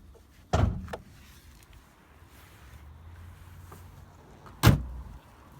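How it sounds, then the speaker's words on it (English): On a Mercedes-Benz 560SEC, two sharp mechanical clunks sound several seconds apart, like the hood release being pulled and the hood latch giving way, with quiet handling in between. "Let's pop the hood"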